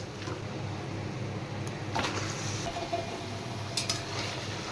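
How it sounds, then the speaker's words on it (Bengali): Chicken pieces frying together with browned onions in a pan, a steady close sizzle throughout with occasional clinks and scrapes of a spoon stirring against the pan. "পেঁয়াজ আর চিকেন একসাথে আবার একটু ভালো করে কষিয়ে নেব"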